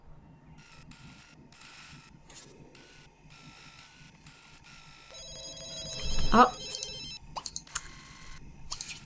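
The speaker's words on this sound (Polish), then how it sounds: "Rozbrzmiewa telefon i..." A telephone rings in The Sims life-simulation game, a short electronic trill rising over quiet background music, with a brief spoken exclamation at the start.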